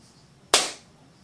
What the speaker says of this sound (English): so I'll clap off now